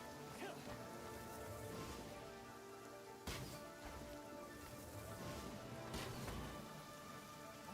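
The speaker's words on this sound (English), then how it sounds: "And it's raining." Rain falls in the video game Genshin Impact, a faint, even hiss of steady pattering with a few brief swells. A voice murmurs faintly beneath it.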